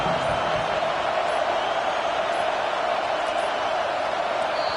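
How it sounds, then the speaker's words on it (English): Stadium crowd in a Madden football game, a steady loud roar of cheering fans filling the air without letup, no distinct voices standing out from the wash. "Listen to this crowd just shaking the girders of this place"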